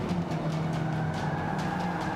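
Race car engine in Forza Motorsport 5 droning steadily at close range while braking into a corner, a sustained mechanical hum with faint tire scrub and no talking.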